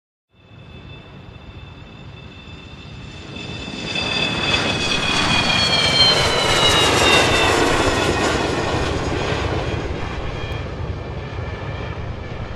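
An animated scene's airplane engine spools up and roars louder, a whining tone sweeping over a rumbling drone that builds and holds near and loud, as the plane departs for Syria.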